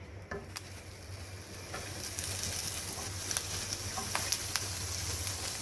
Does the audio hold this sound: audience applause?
no